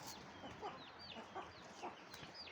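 Soft, repeated chicken clucks and little chirps sound faintly against a steady hiss of background noise, spaced out at an unhurried pace.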